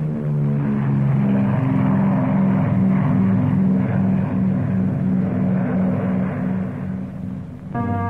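Junkers Ju-88 bomber in flight, its propeller engines making a steady, loud, droning hum with a throbbing beat that holds throughout.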